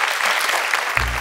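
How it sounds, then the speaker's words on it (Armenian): Studio audience applauds on a television evening show, a short burst of dense clapping that swells and is joined by a low thump near the end. "Ծափահարություններ։"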